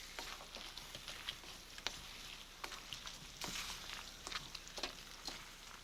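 A couscous stir fry gets mixed in a hot pan, giving a soft, steady sizzle with scattered light scrapes and taps of stirring, fairly quiet and with no voices.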